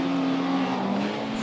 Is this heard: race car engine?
yes